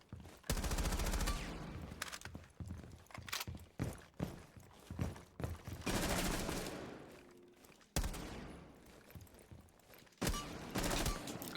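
Rapid bursts of gunfire from Rainbow Six Siege crack out in loud clusters, with short pauses, quick single shots and a few sustained volleys, close and punchy against a quiet background.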